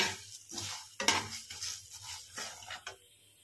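Whole spices (cumin, coriander, bay leaf, dried red chilli and whole garam masala) dry-roasting in a pan, with irregular spoon scrapes and clinks against the metal over a faint sizzle; no talking.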